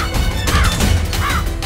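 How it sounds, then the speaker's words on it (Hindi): A crow inside a house, cawing twice in harsh rising calls, loud and close, with clattering bumps around the calls. "माँ ने कहा है गलती से भी ये कौवा घर के अंदर ना आए।"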